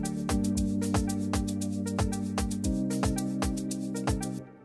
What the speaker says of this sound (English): So from Nexus, it's called UK Pikes Inside Plucked.